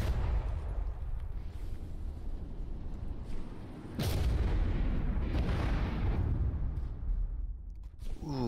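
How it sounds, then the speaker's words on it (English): Missile barrage in the naval combat game From The Depths: a dense, continuous roar of launches and explosions, with a sharp, heavy boom near the middle followed by more rumbling blasts, loud throughout. "And here is another round of missiles."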